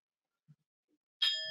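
A bright metallic gong or bell strike rings out suddenly after near silence, sustaining with a clear shimmering tone, used as an on-stream alert for a new subscriber.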